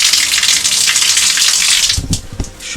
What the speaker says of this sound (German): Und die Dusche ist hier das Gegenteil von einer Regenwalddusche. Ist eine Flussdusche scheinbar.